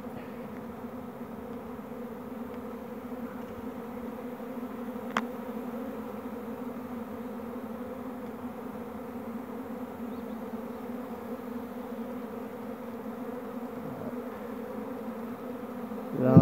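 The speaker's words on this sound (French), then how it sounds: "voilà un essaim. Je ne sais pas s'il est en train de se former." Honeybee swarm gathering at a house, a steady dense buzzing hum of many bees, fairly faint and continuous with occasional closer passes.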